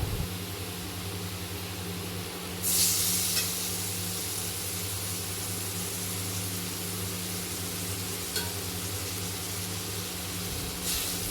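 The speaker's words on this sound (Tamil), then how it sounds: "வெங்காயம் நல்லா வதங்கிடுச்சு." Chopped onions sauté in a pan for a Maggi noodle dish, giving a continuous close sizzle with a few brief louder bursts of stirring and no talking.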